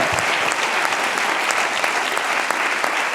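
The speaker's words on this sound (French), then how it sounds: "Allez, les applaudissements, ça comble, c'est dans le cercle" Dense, sustained audience applause at an anniversary gala evening, loud and even throughout, with sharp individual claps standing out from the crowd.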